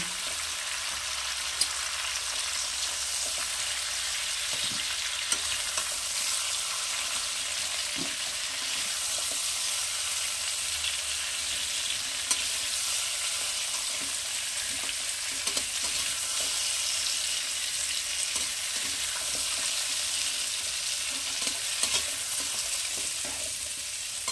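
Bengali shish palong lightly frying in a pan, a steady, close sizzle that holds evenly throughout with small crackles and spatters scattered across it; no voices.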